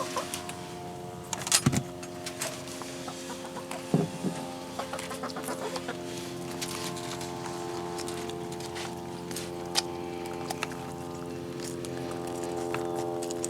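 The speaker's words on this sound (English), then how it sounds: "Nana, you naughty, naughty chicken. Where are your green eggs?" Backyard chickens cluck and murmur close by across the whole stretch, with a few sharper squawks and bursts of scratching over a steady background hum.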